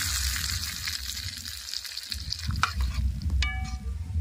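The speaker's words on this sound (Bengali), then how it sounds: "একটু নেড়ে নেব।" Dal being stirred in a kadai with cumin, a steady frying sizzle with scraping spoon strokes, louder clanks near the end.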